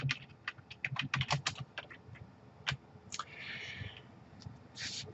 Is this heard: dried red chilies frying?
no